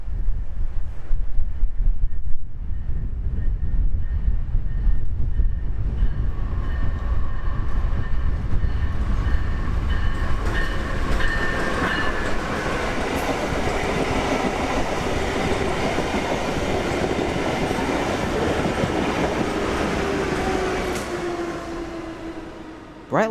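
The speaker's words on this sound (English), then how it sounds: "Rolling south into West Palm not a minute late would be BLF 722, slowing for its station stop here after departing Orlando" Brightline passenger train BLF 722 rolling into West Palm Beach station, slowing for its stop: a loud, continuous rumble of wheels and cars passing close by, with squealing brake tones rising near the end.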